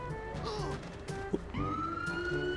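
An ambulance siren wails in GTA 5, a faint electronic tone sweeping up and settling into a sustained pitch amid soft game background noise.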